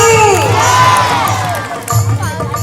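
A crowd of schoolchildren at a cultural program shouts back in unison to a Ganpati Bappa call, a loud, dense chorus of young voices with a second surge near the end.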